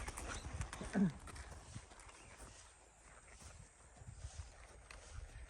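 An Appaloosa horse being ridden, its hooves clip-clopping in an irregular walking rhythm under steady background noise, with one louder thud near the start.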